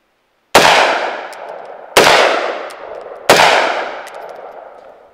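Three loud, close shots from a suppressed .223 AR pistol with a 7.5-inch barrel, fired outdoors at roughly one-and-a-half-second intervals, each a sharp crack followed by a long decaying ring.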